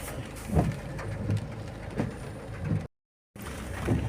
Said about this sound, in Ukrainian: Дощик падає, не дуже.